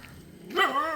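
A dog barks once nearby, a single loud, sharp bark that cuts through quiet outdoor background sound.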